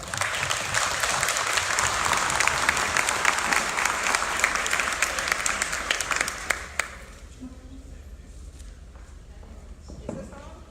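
A conference audience at Adapt Atlanta 2019 applauds loudly and steadily to welcome speaker Amy Berger. After about seven seconds the clapping stops abruptly, leaving a quiet room with a faint stray noise.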